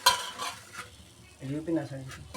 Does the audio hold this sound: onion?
yes